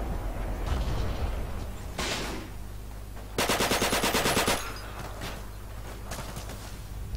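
Gunfire in the WWII shooter game Forgotten Hope 2: a sharp burst near two seconds, then a loud rapid machine-gun volley lasting about a second, followed by scattered distant shots over steady background rumble.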